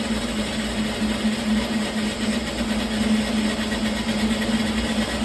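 A motorized kitchen sewer snake runs steadily with its cable drawn back under tension, giving a close, continuous mechanical drone with a strong low hum and an even, unbroken level.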